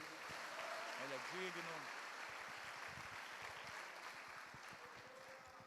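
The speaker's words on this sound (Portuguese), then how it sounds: "Pode aplaudir o Rei." Church congregation applauds at the close of a worship service, a soft, steady wash of clapping heard at a distance while a voice speaks briefly over it.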